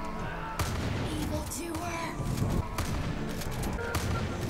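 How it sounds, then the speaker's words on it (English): Repeated booming grenade-launcher blasts in a video game, several heavy thumps at irregular intervals over dense game noise and background chatter. "Because you know what I have? A grenade launcher."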